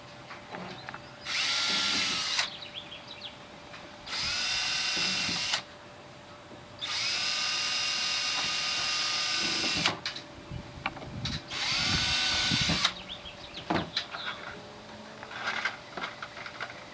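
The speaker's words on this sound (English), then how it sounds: "I have some 1-inch self-piercing screws that'll go into that starter hole and hold that drum in place." A power drill drives 1-inch self-piercing screws into a poly drum for a planter deck, whining in four separate bursts of a couple of seconds each with quiet pauses and light handling clatter between them.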